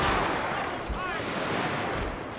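Rifle gunfire from British soldiers in a Total War game battle at Rorke's Drift against retreating Zulus, a dense, continuous crackle of distant shots blending into a steady roar across the whole stretch.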